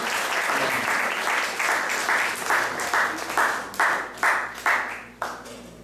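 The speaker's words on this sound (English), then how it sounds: "So please give a round of applause for their wonderful seva that they do for you." An audience at an ISKCON temple in Atlanta applauding, a dense wash of clapping that thins into several separate bursts which fade out toward the end.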